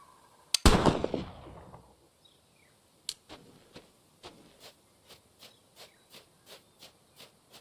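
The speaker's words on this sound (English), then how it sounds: "Let's try the muzzle loader." Muzzleloader rifle fired in the hunting video game Deer Hunter 2005: one loud booming shot with a hissing tail that fades over about a second, then sparse quiet clicks and a regular series of soft thuds.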